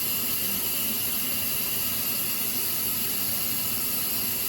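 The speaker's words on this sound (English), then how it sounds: "that looks like a little bit of steam there" Steam releasing from the valve of an electric pressure cooker (HYSapientia or Cosori) while cooking a rotisserie chicken, producing a continuous, even hiss that holds steady throughout without talk.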